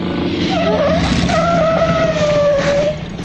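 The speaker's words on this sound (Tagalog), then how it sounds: "Tricycle!" A tricycle skids to a stop with a loud, drawn-out tire squeal lasting about three seconds, close by, with no speech over it.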